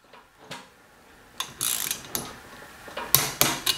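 A wrench ratchets on the bolts of a two-stroke paramotor engine while their tightness is checked, giving several short bursts of close, crisp clicking separated by brief quiet gaps.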